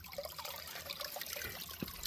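Natural herbal spring water at Seeppalakkottai in Theni district flows in a steady soft trickle and splash, continuous and fairly quiet, with no talk.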